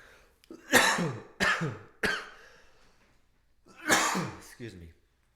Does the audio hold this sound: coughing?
yes